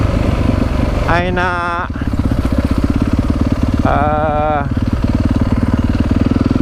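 A motorcycle engine idles steadily and close by for the whole stretch, a constant chugging rumble under someone speaking briefly.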